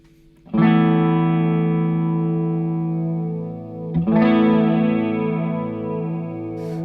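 Two sustained, rich electric guitar chords ring out in turn, each gradually swelling with a shimmering, wavering chorus effect from a Jackson Audio New Wave analog chorus pedal in bloom mode that builds over several seconds.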